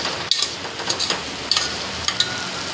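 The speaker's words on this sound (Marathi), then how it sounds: "बघा चांगला वाटाणा आणि बटाटा तेलामध्ये चांगला फ्राय करून घ्यायचं" Peas and potatoes fry in hot oil with a steady, close sizzle, broken by a few sharp scrapes and clicks of a spoon against the pan.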